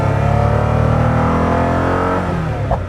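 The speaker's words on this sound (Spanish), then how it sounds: "Es increíble la cantidad de sonido que puede liberar este coche." Koenigsegg Agera RS1 sports car engine revving hard, a loud, close, sustained roar that holds steady for about three seconds with no voices over it.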